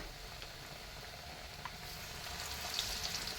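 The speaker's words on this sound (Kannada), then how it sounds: "ಅದಾದಮೇಲೆ ಎಣ್ಣೆಗೆ ಬಿಡಬೇಕು ಪಕೋಡನ" Bread pakoda deep-fries in hot oil with a faint, steady bubbling sizzle and a few soft crackles, low in level and without talking.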